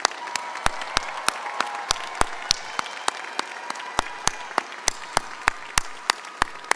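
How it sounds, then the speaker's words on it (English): Graduates at a commencement receive a round of applause from the audience, a continuous crowd clapping bed punctuated by regular loud, close individual claps that keep a steady rhythm throughout. "Let's have a round of applause for all of these graduates."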